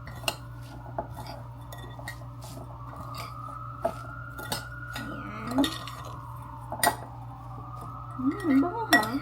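Garlic, onions and breadcrumbs are stirred in a pan for crab stuffed mushrooms, with soft scraping and occasional clinks of a utensil against the pan over a low steady hum and no talking.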